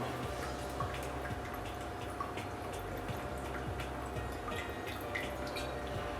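Dark rum trickling slowly from a bottle while mixing a rum cocktail: a faint, steady liquid drip and trickle with small ticks, quiet and without talk.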